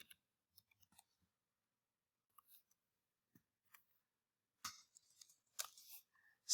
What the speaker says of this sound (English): I keep typing the wrong key.